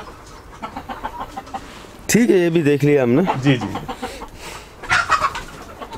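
Chickens clucking and calling on a goat farm, kept in a tiered pen beneath the goats, with loud, close, busy clucks mid-clip and people talking throughout.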